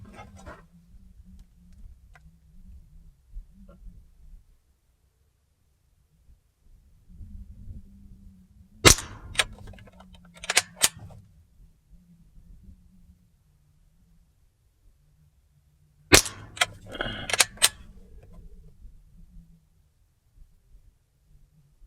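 Umarex Ruger 10/22 CO2 pellet rifle firing Super Dome pellets at a target: two separate groups of sharp, quick clicks and snaps, each a short cluster of reports, over a quiet low hum with long still gaps between.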